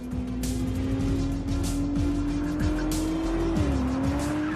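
A Ferrari 296 GTB hybrid supercar driving hard, a loud sustained engine note rising and dipping with gear changes while the tires squeal repeatedly throughout.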